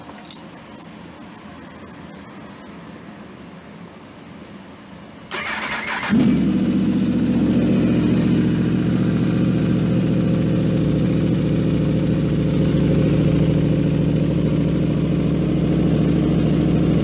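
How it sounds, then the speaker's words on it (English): A 2016 Yamaha R1 motorcycle fitted with a Two Brothers slip-on exhaust cranks over and fires up, settling into a loud, steady, close idle with no talking. "We're gonna fire this R1 up right now and get this flossing"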